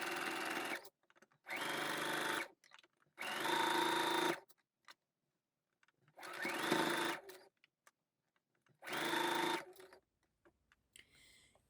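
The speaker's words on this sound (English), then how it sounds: "And now you can sew this on" A sewing machine stitches a sleeve head in five separate bursts of steady mechanical whirring, each about a second long, with quiet pauses between them and no talking.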